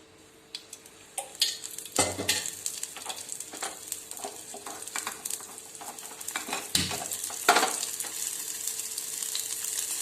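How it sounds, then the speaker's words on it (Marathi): Green chillies sizzle in hot oil in a wok, a crackling fry broken by repeated scraping stirs and clinks of a utensil against the pan, growing louder toward the end. "ती छानशी अशी तळून घ्यायची आहे आपल्याला."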